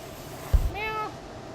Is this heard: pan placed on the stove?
no